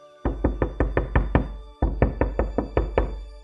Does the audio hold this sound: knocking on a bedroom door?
yes